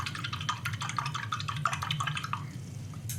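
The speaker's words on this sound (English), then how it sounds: "Let's wash the brush." A paintbrush is swished and tapped in a small container of water, giving quick irregular drips and splashes over a low steady hum.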